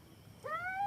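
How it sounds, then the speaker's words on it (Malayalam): A stray cat gives a single short, rising meow outdoors on a terrace at night, faint and close, alone against quiet background hum. "ശരിക്കും ഇത് നമ്മുടെ പൂച്ചയല്ല കേട്ടോ വേറെ എങ്ങാണ്ടൊന്ന് വന്ന് കയറിയതാണ്"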